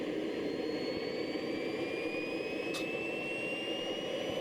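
A small RC model jet engine whines steadily close by on its first run-up to idle, its pitch rising gradually as it spools up, with a roaring rush underneath.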